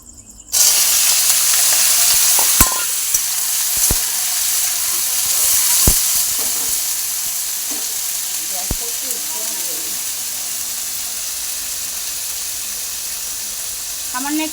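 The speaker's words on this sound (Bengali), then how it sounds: "এটা আলুটা আগে আমি ভেজে নেব," Potatoes frying in hot oil in a wok, a loud continuous sizzle that starts abruptly and holds steady, broken by a few sharp clicks of a utensil against the pan, close up.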